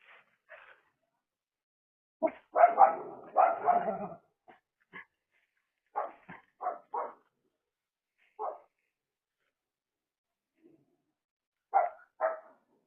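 Several dogs bark at a neighbor's dog passing by, in scattered bursts: a dense flurry early on, then single barks and short pairs spread through the rest, moderately near, with quiet gaps between.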